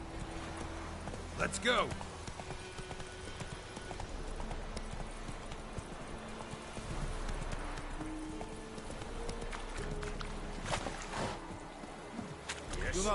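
Roach, a horse in The Witcher 3, gallops with a rapid, continuous clip-clop of hooves throughout, moderately close, while someone speaks briefly over it.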